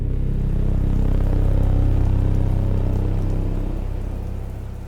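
Moderate pre-dawn rain falls steadily at around 54 degrees, a dense, continuous hiss of drops on surfaces with a low rumbling undertone, loud and close throughout, with no voices.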